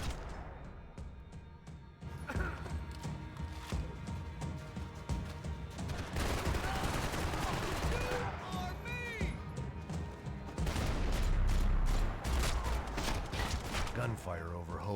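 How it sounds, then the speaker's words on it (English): Gunfire erupts in the video game Max Payne 3, with bursts of shots, crashes and impacts in a battle over Hoboken, some heavy and rapid, mixed with voices talking across much of it. "Gunfire over Hoboken."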